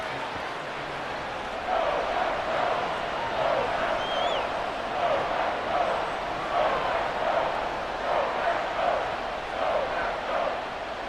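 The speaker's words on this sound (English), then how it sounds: "A big play here as the crowd noise rises." A large Madden 24 video game crowd at a Saints–Packers game murmurs and swells into a loud, sustained roar, with some cheering mixed into the steady wash of noise.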